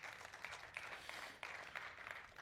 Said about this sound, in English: Let's have a big round of applause for this wonderful achievement.